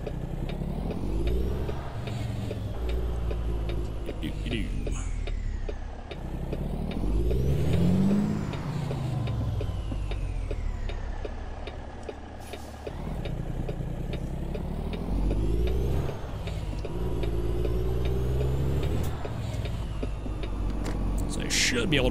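A truck engine in American Truck Simulator drones steadily at mid pitch, rising and falling with throttle as it drives, heard under continuous talking throughout.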